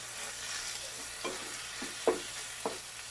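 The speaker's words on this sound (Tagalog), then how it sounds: "hahaluin natin" Corned beef sautéed in a pan for a bean sprout ginisa gives a soft, steady sizzle under a few scrapes and taps as a utensil stirs it, close and fairly quiet, with no voices.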